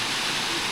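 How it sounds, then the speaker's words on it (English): A waterfall in Manning Gorge or Galvans Gorge gives a steady, dense rushing roar, close and loud, with no voices over it. "That waterfall's amazing."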